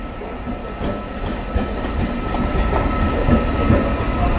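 An Amghata–Krishnanagar inaugural special train rolls into Krishnanagar City Junction station, a steady rumble of wheels on rail with faint rhythmic clacks building slightly in loudness, with no talking.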